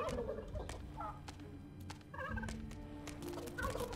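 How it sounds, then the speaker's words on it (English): Several turkeys gobble in the Dungeons 3 video game, bursts of warbling calls repeating close and loud over a steady game ambience, with no talk. "These are the turkeys."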